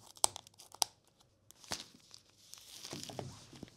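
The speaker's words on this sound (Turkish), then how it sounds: "Hemen paketini açarak başlayalım." Plastic packaging around an Olight Odin flashlight is torn open, with two sharp snaps followed by a burst of ripping and crinkling, quiet and close with no voices.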